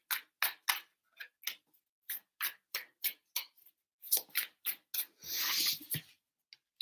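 Tarot cards shuffled by hand, a quick series of crisp, close card snaps and riffling taps in irregular bursts, ending in a longer brushing rustle, with no voice.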